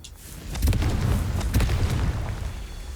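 A Confringo fire-blast spell cast in the video game Hogwarts Legacy, a short burst of booming, crackling impacts lasting about two seconds, moderately loud, with no talk.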